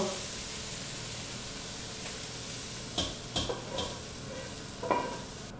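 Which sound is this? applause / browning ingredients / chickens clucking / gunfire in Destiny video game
browning ingredients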